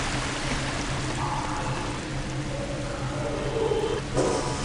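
Steady rushing water of a waterfall in the Harry Potter and the Philosopher's Stone video game, a continuous broadband roar heard up close with no speech over it.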